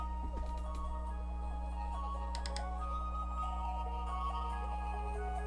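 The opening of a song plays loudly and steadily throughout, a sustained electronic intro with bright, ringing synth tones and a few clicky ticking accents, with no voices over it.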